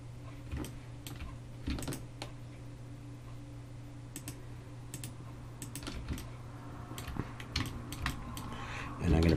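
Computer keyboard keys pressed for shortcuts while modeling in Blender, heard as faint, scattered clicks and short taps at irregular intervals against a quiet room hum.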